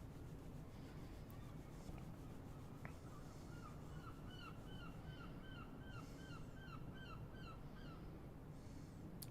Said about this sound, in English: You might also sometimes hear the sound of seagulls in the background.